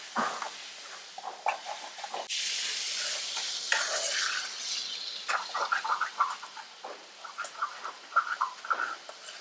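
Brinjal fries in plenty of oil with chilli powder, hissing in a sizzling pan while a spoon stirs and scrapes in quick, uneven strokes, close and alone.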